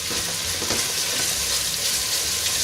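Lamb dopiaza curry hisses and sizzles loudly in a hot pan as liquid is added to deglaze it, a steady dense frying noise with faint stirring close by.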